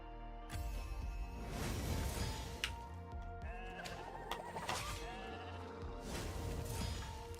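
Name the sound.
sheep bleating after a polymorph spell in a video game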